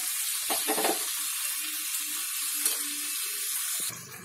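Whisked water poured into a pan of frying broccoli and potato masala sets off a loud, steady sizzle, with a few brief clatters of pan or spoon and the hiss easing off at the very end.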